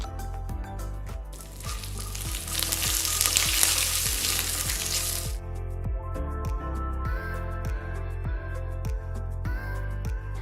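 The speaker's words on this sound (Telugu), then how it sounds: "దీంట్లో అర టీ స్పూన్ ఆవాలు వేస్తున్నాను కొన్ని ఎండుమిరకాయలు ఇప్పుడు దీంట్లో కొంచెం కరివేపాకు అవి కూడా వేసేద్దాం" Mustard seeds, dried red chillies and curry leaves fry in hot oil, giving a loud, steady sizzle that swells into a bright crackling burst before settling back to a calmer, continuous fry.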